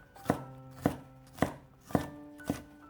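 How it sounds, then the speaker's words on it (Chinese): A knife chops a deseeded green pepper into thin strips on a cutting board, five sharp, evenly spaced thuds about half a second apart, close and clear with no talking. "先给它切成细丝"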